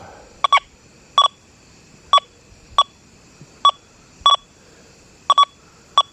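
Sharp electronic beeps from a Deus 2 metal detector with HF2 coil, single and doubled, repeat at irregular intervals over a faint low rustle, each tone short, clear and close.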